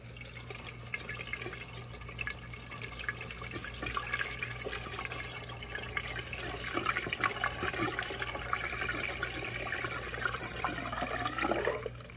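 Windshield washer fluid poured into the reservoir of a Subaru Impreza: a quiet, continuous trickle and gurgle of liquid that runs steadily throughout and rises slightly in pitch near the end as the reservoir fills.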